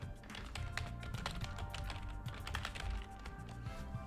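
Rapid, continuous typing on a computer keyboard while entering a name into a chat, dense clattering keystrokes close by with no pauses.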